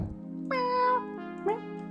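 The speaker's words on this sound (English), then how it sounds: "A cat in the fountain." A cat meows in the hidden-object game Cats Hidden in Paris, with a long drawn-out meow followed by a shorter second one. Both are close and clear over a steady low background drone.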